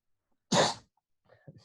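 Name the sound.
sneeze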